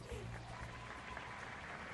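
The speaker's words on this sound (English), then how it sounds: "Let's give them a round of applause first" Audience applause at the Miss World 2009 final, a steady crowd wash under a host's voice, fairly faint and continuous across the short stretch.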